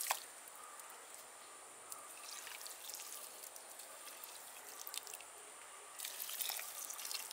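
Water is poured into a pot holding a newly planted bougainvillea, producing faint trickling and dripping with soft splashes that swell near the end.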